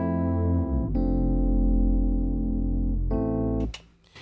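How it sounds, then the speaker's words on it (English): Sustained synth notes with a pitch bend glide effect, bright and harmonic-rich, sliding smoothly between pitches around the one-second and three-second marks before cutting off abruptly near the end, heard alone without voices. "that's why we still getting that glide effect"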